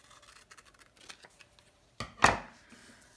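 Paper rectangle being cut through the middle with scissors: a few faint snips, then one loud, close slicing cut that fades out, with no voices.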